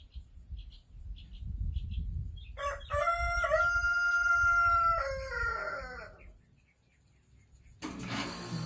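A rooster crows once, a clear drawn-out call lasting a couple of seconds, heard alone over faint background rumble and a steady high electronic whine.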